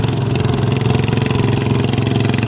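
A motorcycle engine held at a steady, loud throbbing run while the rider lifts the front wheel in a wheelie, close by and constant with a rapid pulsing beat.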